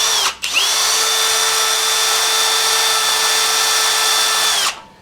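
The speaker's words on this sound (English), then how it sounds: "use this crappy little drill bit here. Try to get a pilot in there" Drill boring a pilot hole with a small drill bit during work at a big sawmill, a loud close whine that starts briefly, restarts and holds steady for several seconds before cutting off.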